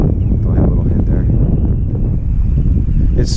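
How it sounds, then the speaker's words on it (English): Strong wind blows across open water during kayak fishing, roaring loudly and continuously against the microphone in a dense, buffeting rumble. "It's really windy, of course."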